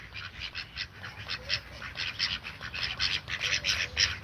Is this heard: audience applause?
no